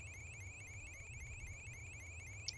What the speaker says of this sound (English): You gotta love the little beeps and boops.